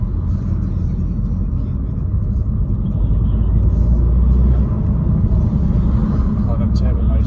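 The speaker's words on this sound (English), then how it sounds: "Oh, them turbo noises." Turbocharged 315 BHP Astra VXR with an induction kit, heard from inside as a loud, steady low engine rumble under driving, with road noise throughout and no clear separate whoosh.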